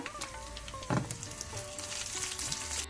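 Chillies sizzle in oil with fried garlic, a soft, steady crackle close by, with a brief louder splutter near the start and faint background noises.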